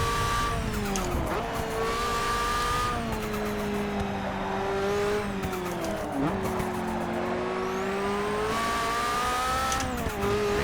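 Nissan R91CP prototype race car lapping Silverstone in Forza Motorsport 6, a loud sustained engine drone that rises and falls through gear changes, with brief tire squeals and no talk.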